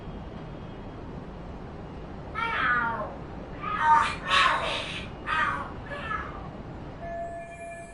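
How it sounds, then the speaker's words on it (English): Cats fighting and screaming in the game Lost Judgment, a burst of loud yowling and caterwauling cries rising and falling over several seconds against a quiet background hum. "Are there cats fighting?"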